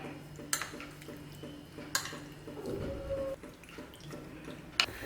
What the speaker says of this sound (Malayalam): ഇനി ഇത് നന്നായി മിക്സ് ചെയ്തെടുക്കാം.